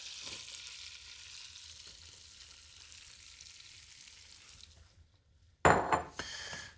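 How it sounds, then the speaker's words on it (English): Leeks drop into frothy butter in a pan for oyster soup, with a sudden loud sizzle bursting up after a quiet stretch of low background hiss, then crackling and easing off. "All right, our butter is nice and frothy. Let's go ahead and add our leeks."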